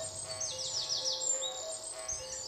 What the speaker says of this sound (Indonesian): Burung cendrawasi.